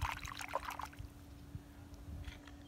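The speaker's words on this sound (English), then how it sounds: "That splashing is the fish." A fish splashes, with quick splashes and sloshing water near the start, then softer trickling and lapping with a few small splashes fading out.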